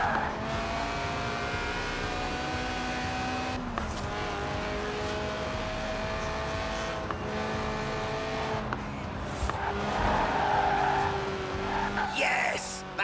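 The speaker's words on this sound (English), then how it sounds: "The honourable art of drifting." A light car of under 700 kilos with a 190-horsepower 1.8-litre engine revving to 8,000 RPM drifts in Forza Horizon 4, its engine droning steadily while tires squeal and skid continuously throughout, loud and close.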